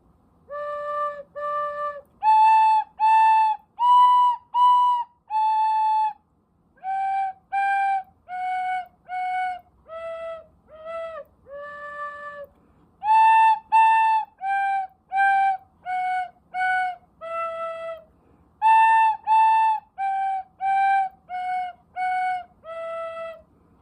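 A tin whistle plays Twinkle Twinkle Little Star slowly, one clear, pure note at a time, in phrases separated by short breaths. It is close and steady and plays alone with no voices.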